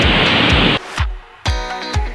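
Big waves crash at Baler beach in Aurora, loud and close, with a roaring surf wash breaking into several heavy impacts and brief lulls between them.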